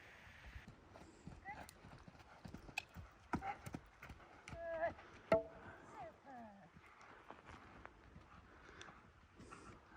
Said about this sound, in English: She'll be lunging the horse around the ground poles.